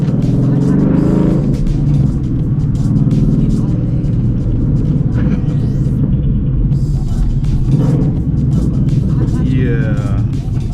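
A Ford Mustang with a very loud exhaust drones and rumbles continuously while driving, with the engine note rising and falling as it accelerates and revs, heard close and dominant throughout.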